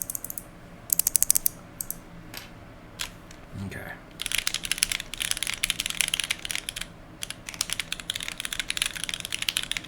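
Rapid clacking keystrokes from a custom-built mechanical keyboard come in bursts, fairly close, with a brief spoken word and a short vocal sound partway through.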